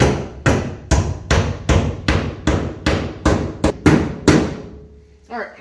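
Repeated hammer blows knocking out a dent in a Ford F-150 body panel, about a dozen loud, close metallic strikes in an uneven steady rhythm, each ringing briefly before the next, with no talking.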